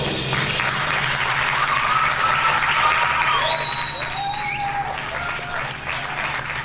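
A studio audience at a radio show applauds steadily, a dense wash of clapping that holds loud throughout and tapers only slightly near the end.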